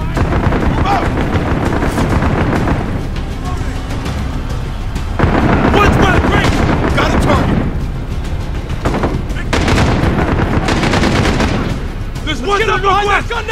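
Heavy gunfire and explosions from an enemy machine gun nest in a Call of Duty: Modern Warfare battle, loud dense bursts rolling and booming over a constant roar, with voices shouting in between.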